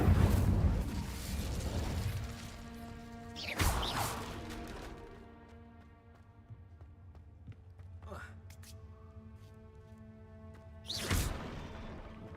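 An Incendio fire spell cast in the Hogwarts Legacy video game, heard as a few sharp whooshing bursts of flame spaced several seconds apart over quiet ambient game music.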